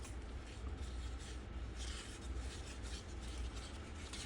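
Steady scraping and grinding of a utensil stirring mica powder into thick epoxy resin in a container, continuous and close, with no talking.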